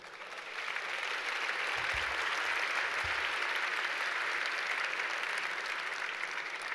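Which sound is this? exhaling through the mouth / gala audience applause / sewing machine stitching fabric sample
gala audience applause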